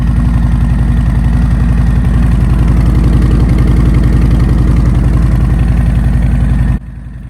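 Motorcycle fitted with Vance & Hines High Output slip-on exhausts idling close by, a loud, steady low rumble with rapid even pulses that holds for about seven seconds before cutting off abruptly.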